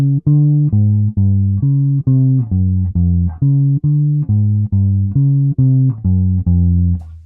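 A jazz walking bass line played an octave up, a steady stream of plucked notes one after another, clear and unaccompanied.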